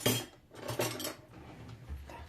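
Rapid metal-on-surface scraping, a spoon raking repeatedly in short strokes to scale a silver carp, close and moderately loud.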